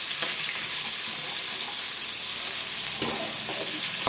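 Chopped small onions and green chillies sauté in a hot pan after chana dal, with a steady broadband sizzle and occasional stirring scrapes and clatters, loudest near the end, close up and with no talking.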